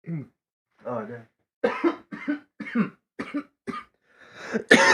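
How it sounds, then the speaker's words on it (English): Several sharp coughs and throat-clearing bursts in a row, close to the microphone, with a short voiced sound at the start and a louder cough burst at the end. "I'm so sorry for coughing in the mic"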